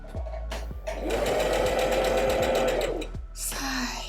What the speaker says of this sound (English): So now I'm just checking that the zigzag stitch goes exactly around the holes and then I'm off.